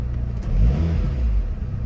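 A SAAB convertible's engine idles close by with a steady, loud low rumble that swells slightly and then settles.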